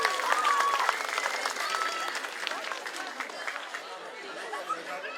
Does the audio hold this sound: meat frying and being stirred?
no